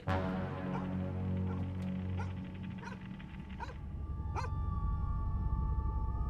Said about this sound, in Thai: เอ๋หมามันเห่าอะไรนะ หมาเห่าแล้วเห่าให้พักเลย